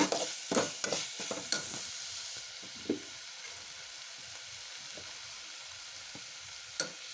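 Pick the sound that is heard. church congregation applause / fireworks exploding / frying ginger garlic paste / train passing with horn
frying ginger garlic paste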